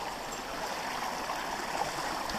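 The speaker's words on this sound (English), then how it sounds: "So this river here in the Hellbank Plantation flows down to the River Derwent." A small river in a woodland plantation, flowing down toward the River Derwent, gives a steady, even rushing of water, faint and unbroken, with no voices.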